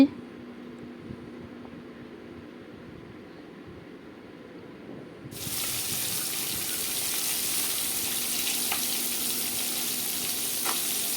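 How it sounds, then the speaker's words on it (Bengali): Small rohu fish fry being turned over in a hot pan: quiet low background at first, then a sudden loud, steady oil sizzle that continues close up to the end. "মাছগুলো একটা পিঠ ভাজা হয়ে গেল এখন উল্টিয়ে দিয়েছি"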